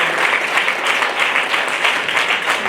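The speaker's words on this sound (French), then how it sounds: "Acclamons pour le Seigneur." Congregation at the tenth-anniversary service of ADV Montréal church claps in praise, a loud, dense burst of applause with a slightly pulsing rhythm, no voices.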